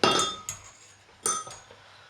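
Cider vinegar, Dijon mustard, honey and dill dressing whisked in a bowl, with three sharp ringing clinks of utensil against the dish, close and clear with a short decay after each.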